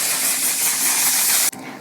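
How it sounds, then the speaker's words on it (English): Spritzes of One Size Until Dawn mattifying waterproof setting spray hiss steadily and close up, then stop abruptly and give way to a quieter breathy tail. "I'm going to finish off with the One Size Until Dawn Mattifying Waterproof Setting."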